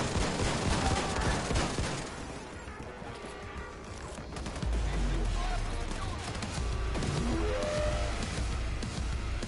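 Fully automatic dual shotguns fire in a WW2 video game, rapid dense blasts and crashes packed together, with a voice talking over the barrage.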